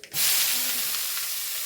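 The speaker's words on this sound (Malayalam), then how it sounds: "ഇനി ഇതിലേക്ക് നമ്മൾ ചതച്ച് വെച്ച പച്ചമുളകും നാളികേരവും കാന്താരിയും കൂടി ഇട്ട് കൊടുക്കാം" Crushed green chilli, grated coconut and bird's eye chilli go into hot oil with browning lentils, setting off a steady broadband sizzle that holds evenly throughout, close and fairly loud, with no voices.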